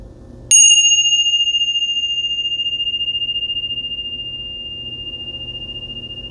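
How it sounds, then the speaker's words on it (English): A single bright bell is struck once and rings on with a long, clear, slowly fading sustain, alone against a faint low background hum. "I will ring the bells."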